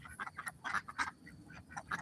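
Speckles, a four-year-old duck, quacks in a string of short, close calls at an uneven rhythm, with a few brief pauses between bursts and no voices.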